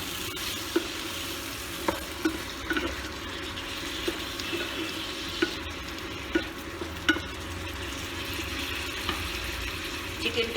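Water goes into a hot pan of chicken cooking, a continuous close sizzle and bubbling with a string of light spoon taps and clicks at intervals, no voices.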